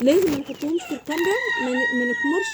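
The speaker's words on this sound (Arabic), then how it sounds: "ده صوت الديك البلدي بتاعي." A local Egyptian baladi rooster crows loudly and close by at a poultry-keeping spot. The crow comes in drawn-out wavering calls with clucking between them, and someone talks quietly over part of it.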